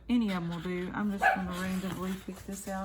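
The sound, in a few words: dogs barking at the garbage collector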